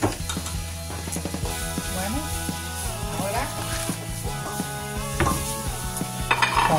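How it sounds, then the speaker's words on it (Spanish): Spinach is being mixed in a pan, producing close, continuous scraping and clinking of a utensil against metal over a low sizzle, with busy shuffling and occasional sharper knocks. "Las vamos a mezclar."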